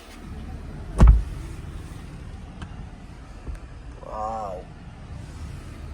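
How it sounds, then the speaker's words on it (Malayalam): A brand new Mercedes S-Class is driven, giving a low, quiet cabin rumble with a soft thump near the start and a brief whirring motor sound later on. "ബ്രാൻഡ് ന്യൂ എസ് ക്ലാസ് ഒന്ന് ഓടിച്ചു നോക്കാം"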